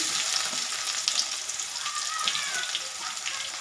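Onion frying in oil in a pan, a dense, steady sizzle crackling continuously at close range with no pauses.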